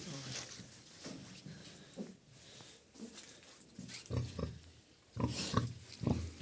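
A sow grunting inside a farm barn, with repeated close, rough grunts that grow louder toward the end, while a person talks throughout.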